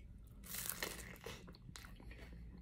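A Jollibee fried chicken drumstick dipped in gravy is bitten and chewed up close, with a few crisp crunches followed by quieter moist chewing, all fairly soft.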